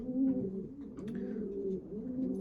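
Several pigeons coo inside a pigeon loft, with low rolling, repeated coos overlapping continuously at close range.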